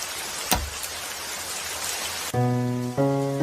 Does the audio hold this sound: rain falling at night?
yes